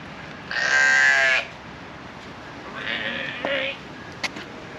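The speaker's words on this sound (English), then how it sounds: "The sheep are in the middle." Sheep bleating at Middleton Place Plantation in Charleston: two loud, nearby quavering bleats, the first long and strong, the second shorter, over a faint outdoor background with a small knock near the end.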